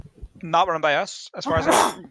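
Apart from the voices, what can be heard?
sneeze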